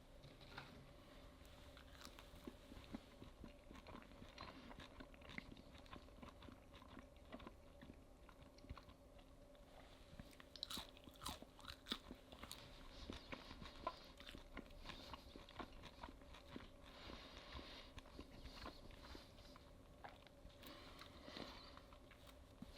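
Crunchy KFC fries are bitten and chewed up close in a quiet room, a long run of soft crisp crunches and moist chewing with irregular clicks, no talking.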